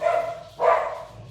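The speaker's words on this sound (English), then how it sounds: "the dogs are barking" Dogs bark in two quick, fairly close woofs, the second louder, with no talking over them.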